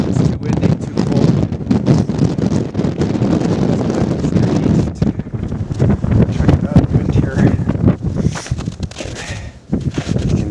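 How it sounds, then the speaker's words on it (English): Strong, cold wind roaring across an exposed mountain slope near Grotto Mountain, loud and gusty as it buffets the microphone, continuous with surges and brief lulls. "Just hear the wind howling"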